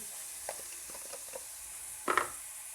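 Onions go into a pan of browned lamb for a Moroccan-style dish, giving a faint steady hiss with soft stirring scrapes and a short clatter near the end.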